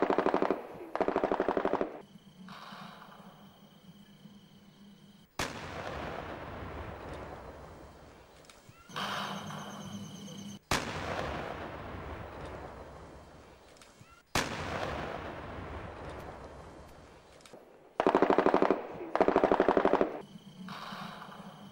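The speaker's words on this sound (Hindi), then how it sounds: "दोनों ओर से रुक रुक कर फायरिंग होती रही।" Cross-border exchange of automatic gunfire and 82 mm and 120 mm mortar fire in Poonch, with repeated loud bursts of rapid machine-gun fire separated by heavy booming impacts and long rumbling echoes, intermittent and ongoing with no voices.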